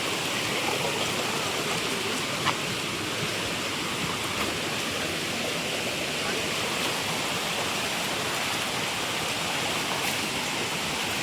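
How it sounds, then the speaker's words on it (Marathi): Bokad waterfall near Vajreshwari pours down in a steady, dense roar of rushing water, loud and continuous from near by with no break. "इकडं बोकड धबधबा आहे, तुम्हाला समोरूनच दाखवतो"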